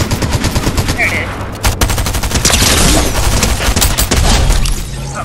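Rapid gunfire from Fortnite crackles in dense bursts, loud and close, like automatic weapons in a firefight, with a few sharp booms mixed in.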